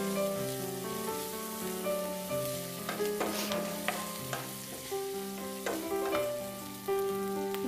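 Shredded cabbage frying in a pan with ginger garlic paste and turmeric powder, a steady close sizzle with bursts of crackle and scraping as it is stirred, continuous throughout with no talk.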